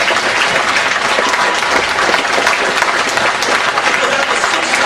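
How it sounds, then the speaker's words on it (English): A live audience at a Nuwaubian Nation of Moors talk in London breaks into loud, sustained applause that fills the room evenly from start to finish without a pause. "Give yourself a round of applause."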